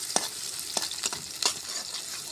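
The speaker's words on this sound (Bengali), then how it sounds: "রসুন কুচি দিলাম, কাঁচামরিচ দিলাম, পেঁয়াজ দিলাম," Chopped garlic, green chilies and onion fry in hot oil, a close bright sizzle broken by several sharp scraping strokes of a spatula.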